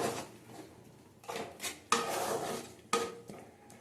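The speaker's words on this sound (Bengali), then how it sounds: "ভালো করে কষিয়ে নেব আঁচ কমিয়ে কমিয়ে কষাবো" Ground cumin and spices being stirred and sautéed over low heat for a cauliflower roast, a spatula scraping the pan in several separate strokes between quieter pauses, with no voices.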